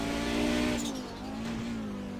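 A GT race car spinning out in a racing video game at Phillip Island, a loud sustained engine drone with a sliding pitch as tires squeal, close and continuous.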